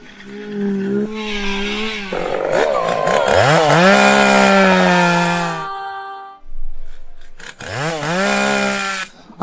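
A chainsaw revs loudly and close in a horror-comedy skit, its engine pitch rising and falling in repeated surges. It cuts out briefly, then roars back for a final burst.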